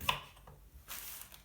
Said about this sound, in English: cut into slices